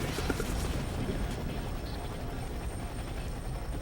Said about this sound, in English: That helicopter is on fire.